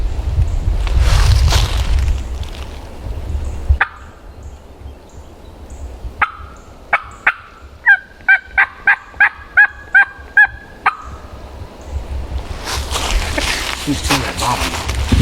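Wild turkey yelping in spring woods, a series of about a dozen sharp, evenly spaced yelps in the middle, with wind rumble and quiet talk before and after.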